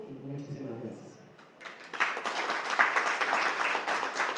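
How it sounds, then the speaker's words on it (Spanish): Audience at an astronomy talk breaking into applause after a woman's closing thanks, a crackling burst of clapping that starts after a short quiet stretch and holds steady at moderate distance. "Pues un fuerte aplauso,"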